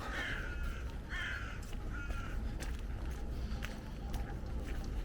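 Crows caw along a snowy Stockholm shoreline, harsh repeated calls near the start that fade into fainter, more distant caws over steady outdoor wind and rumble.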